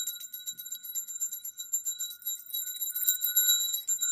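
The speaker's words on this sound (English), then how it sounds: "do this bell" A bell struck once for energy clearing during a card and crystal session, ringing out in a bright, sustained tone with shimmering overtones that hang steadily for several seconds, with no voices.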